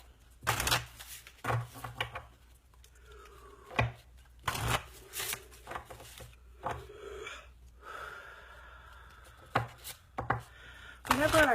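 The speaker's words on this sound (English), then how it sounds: "all my cards are wanting to be shuffled" A deck of tarot cards is shuffled in several separate bursts of sharp riffling and slapping, close and crisp, with soft breathing and quiet gaps between them.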